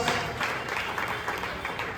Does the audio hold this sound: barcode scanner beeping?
no